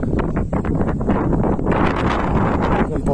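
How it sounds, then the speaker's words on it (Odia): Strong wind gusting through trees during rainy weather, a loud continuous roar and rustle that buffets the microphone throughout. "ପବନ କେତେ ଜୋର ହଉଛି।"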